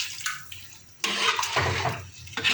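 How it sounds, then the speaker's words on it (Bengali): Water is poured into a pot of fried-down chicken bhuna curry, an uneven splashing gush in two bursts with a brief gap, close by and with no speech. "পানি দিয়ে দেবো।"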